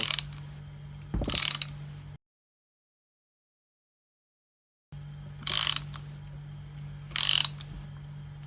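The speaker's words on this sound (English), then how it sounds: "Use the shorter Allen bolt, and now we'll just be able to wind that in the rest of the way" An Allen bolt is wound in with an installation kit. It makes three short, brisk ratcheting bursts separated by pauses, with a steady low hum underneath and a stretch of dead silence partway through.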